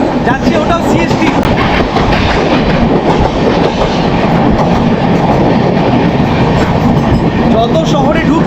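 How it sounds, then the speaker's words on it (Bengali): A crowded Mumbai local train headed for CST rumbles past at close range, loud and continuous with rhythmic clickety-clack of wheels over rail joints running the whole way. "যার দিকে এখন সেই মুম্বাই লোকাল যাচ্ছে, ওটাও সিএসটি।"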